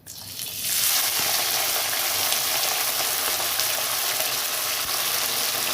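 Chopped green garlic leaves hitting hot oil in a pan for a home-style vegetable dish: an initial splash gives way to a steady, loud, dense sizzle that continues evenly throughout, with no talking.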